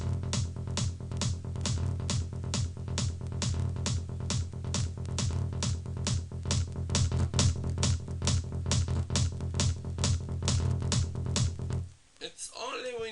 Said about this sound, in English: And with the quantizer it sounds like this.